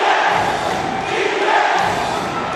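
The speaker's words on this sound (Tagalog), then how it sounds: "It is a roaring crowd here at the Vitaliano Agan Coliseum." The crowd at Vitaliano Agan Coliseum roars loud and continuous during an MPBL South Division Finals basketball game between Batangas City and Zamboanga, a dense wash of cheering with no break.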